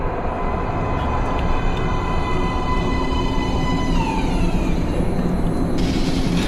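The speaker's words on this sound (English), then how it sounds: "Please step away from the edge of the platform. Train coming in." An underground metro train rolls into a station platform in the video game Metro: Last Light, a loud, continuous rumble with rising metallic whines and squeals as it pulls in, no talking.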